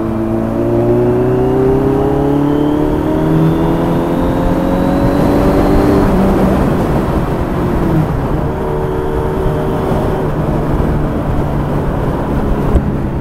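A Suzuki motorcycle engine revs as the throttle opens in Ankara traffic, climbing in pitch over several seconds before settling, loud and close with constant wind and road roar, and no one speaking.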